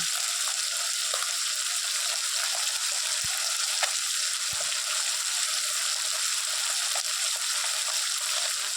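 Small puti fish fry crisply in hot oil in a pan, a steady close sizzle running the whole time with a couple of faint clicks of a utensil against the pan.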